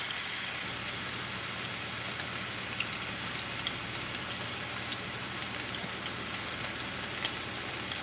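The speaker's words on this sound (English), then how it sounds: "So all I'm doing is browning the outside of the tenderloin, and then I'll finish it off in the oven" Pork tenderloin browning in a hot pan, a steady close sizzle and fine crackling spatter that continues evenly throughout without any talk.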